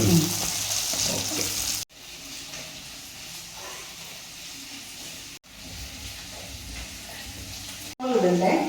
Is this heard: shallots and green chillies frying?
yes